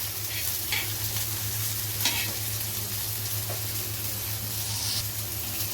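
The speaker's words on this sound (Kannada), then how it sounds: "ಒಂದೆರಡು ಡ್ರಾಪ್ ಹಾಕಿ ಅದನ್ನು ನೀವು ಫ್ರೈ ಮಾಡ್ಕೋಬೋದು" Paneer frying in a few drops of oil on a tawa, a steady even hiss with occasional faint spatula scrapes, close and continuous, no voices.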